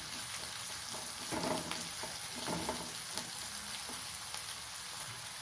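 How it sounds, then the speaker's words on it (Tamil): Steady loud sizzling of onions sautéing in a pan, with occasional scraping stirs breaking through the hiss. "பெரிய வெங்காயம் மூணு வெங்காயம் பொடியாக நறுக்கி வச்சுருக்கேன் அதை வதக்கணும்"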